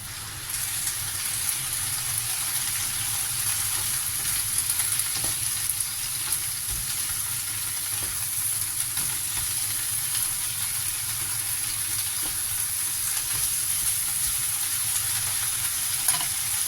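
Leftover roast chicken quick-fries in a pan, giving a steady close sizzle with a constant crackling hiss and occasional pops and stirring scrapes, continuing evenly for over sixteen seconds with no talking.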